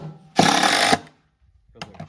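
A power drill drives a Phillips head screw in one short, loud, whining burst of about half a second, followed by silence and a brief faint rattle of handling.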